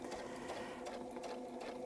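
A sewing machine stitches a quilt across and around a template for a Baptist Fan pattern, giving a rapid, even mechanical whir with quick repeated needle clatter, close and moderately quiet, with no voices.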